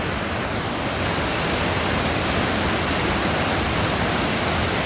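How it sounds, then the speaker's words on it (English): The largest waterfall in Middle Prong Wilderness pours in a loud, steady, broadband roar of rushing water that stays close and constant, with no voices over it. "This is the biggest waterfall in Middle Prong Wilderness."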